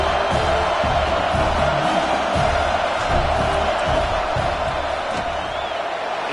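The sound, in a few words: football stadium crowd cheering during field goal attempt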